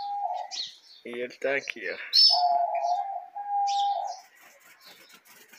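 A female exotic bird kept in a breeding aviary calls with short chirps and sustained whistling coos, close and loud, alternating with someone speaking nearby.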